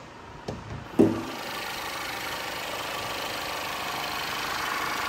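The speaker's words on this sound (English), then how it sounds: "A very quiet engine." Mercedes GLC 250 engine idling quietly in an open engine bay: after a couple of brief clunks, a soft, even hum holds steady to the end.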